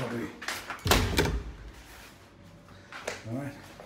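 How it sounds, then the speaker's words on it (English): A hotel room closet door is pushed shut with a close, dull thump and a short rattle, followed by a lighter knock, while someone talks throughout. "Didn't shut the door properly."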